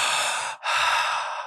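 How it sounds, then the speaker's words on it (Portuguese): Conscious circular breathing through the mouth, heard close and loud as one long rushing breath, a brief gap, then another full breath right after it, with no talking. "existe uma prática que é a respiração consciente e circular,"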